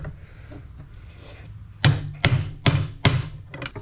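A hammer strikes a bolt through a shock bushing on a 2021 Ford Bronco lift kit install, four loud, evenly spaced metallic whacks up close after a quieter stretch of faint handling noise.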